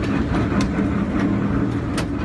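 Amarnath Express passenger train running at full speed on railway tracks, a steady rolling rumble with faint rhythmic wheel clatter throughout.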